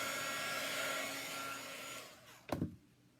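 A hair dryer blows steadily and close up over wet chalk paste, then cuts off with a brief clunk near the end.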